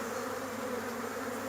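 Honeybee swarm moving down into a box at a swarm lure during beekeeping, a steady dense buzzing drone that holds evenly throughout, close and continuous with no voices.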